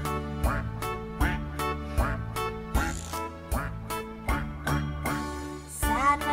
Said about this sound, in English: Sad mother duck said quack, quack, quack